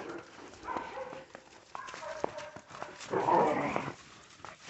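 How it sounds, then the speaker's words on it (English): Puppies from a house pack in cold snowy weather, out in snow for the first time, make soft close scuffles, yips and low grumbles in a quiet, uneven stream. "You coming in, the puppies?"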